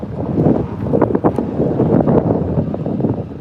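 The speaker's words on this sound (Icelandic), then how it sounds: "Stífur vindur hérna aðeins yfir okkur." Strong wind buffets the microphone out on the water during a sailing race, a loud continuous roar with gusty surges and no talk.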